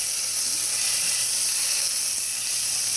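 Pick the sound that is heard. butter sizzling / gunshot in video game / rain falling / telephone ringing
butter sizzling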